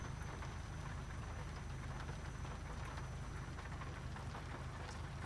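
Steady rain falls on the cab roof of a truck in Euro Truck Simulator 2 during a foggy downpour, forming a dense continuous hiss with a low rumble beneath, loud and unbroken throughout with no talking.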